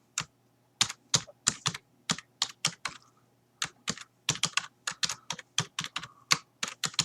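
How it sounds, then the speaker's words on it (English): Typing on a computer keyboard, quick irregular bursts of crisp key clicks with short pauses between groups, close and clear with no talk. "So you would type in your name here."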